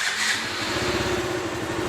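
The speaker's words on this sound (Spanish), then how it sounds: "Vamos a prender nuestra motocicleta." A KTM Duke motorcycle with a weak battery starts up and settles into a steady, throbbing idle, loud and close with no talk.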